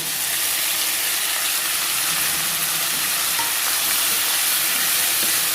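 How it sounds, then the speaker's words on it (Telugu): Chopped tomato pieces being stirred in hot oil in a frying pan for tomato-ginger chutney, a loud, dense, continuous sizzle and hiss up close with no speech. "ఒకసారి బాగా మిక్స్ చేసుకుంటూ కలుపుకోవాలి."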